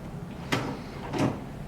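A hinge on a Barker Modern cabinet door clicks into place during assembly, giving two short, close, solid clicks about half a second apart against quiet room tone.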